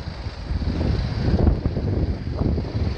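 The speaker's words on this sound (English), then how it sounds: "Apologies about the wind folks." Wind buffets the microphone outdoors beside a parked BMW 318d Sport Saloon on a breezy day in Finglas, a loud, rough low rumble that swells and gusts throughout with no talking.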